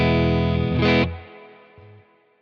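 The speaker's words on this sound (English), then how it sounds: "So this is a little bit of a modulated reverb, just kind of nice overall." Electric guitar through a Nano Cortex 2.0 Mind Hall modulated reverb, a sustained strummed chord swelling with shimmering wash, then cut off and left to a fading, wavering tail with a faint low note.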